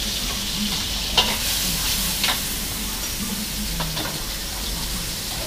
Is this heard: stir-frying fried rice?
yes